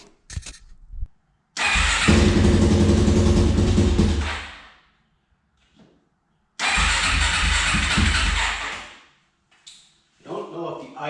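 A Suzuki LTZ400 quad's engine cranks and fires, running loud and close for a few seconds before cutting out, then starts again and runs for several more seconds before stopping, with faint clatter afterward.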